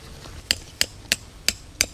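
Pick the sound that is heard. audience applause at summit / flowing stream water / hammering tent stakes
hammering tent stakes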